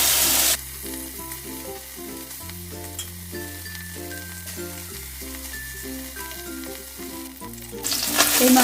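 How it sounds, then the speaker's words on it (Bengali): Tangra fish frying in oil in a wok, a steady close sizzle under a loud melodic music track, with no talk. "বাকি মাছগুলোকেও আমি একইভাবে ভেজে নেব"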